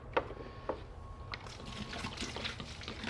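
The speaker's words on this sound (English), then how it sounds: "Now let's add our non-chlorinated water here." Non-chlorinated water pours into a molasses compost mix as a steady, soft liquid trickle and splash, faint and continuous with a few sharper drips early on.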